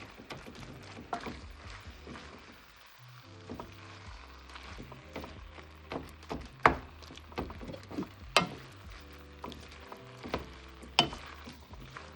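Cabbage and corned beef being stirred in a pot for a Jamaican dish, with a steady low sizzle and irregular sharp scraping and clinking strokes of a utensil against the pot, close and fairly quiet.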